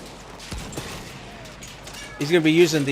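A cannon fires in the video game Battlefield 1, with a low thud followed by a scattered burst of gunfire in the background, and a commentator's voice comes in toward the end.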